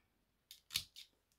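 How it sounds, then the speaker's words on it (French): Scissors snip through a piece of ribbon during a December craft project, three quick close crisp cuts in a quiet room. "Et le ruban, on va se couper un morceau."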